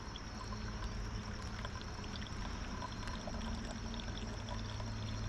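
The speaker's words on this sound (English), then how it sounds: "And I pour in just a little bit at a time." Hot water is poured a little at a time into a Wacaco Cuppamoka pour-over coffee maker outdoors in cold weather, a soft, continuous trickle heard close up over low background rumble.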